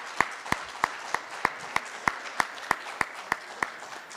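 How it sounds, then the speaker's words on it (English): Slow, evenly spaced claps at a band and choir banquet, about a dozen sharp distinct strikes roughly a third of a second apart over a quiet room, sounding like one or a few people clapping rather than a full crowd. "I'd like to give a round of applause to the person who set up this event"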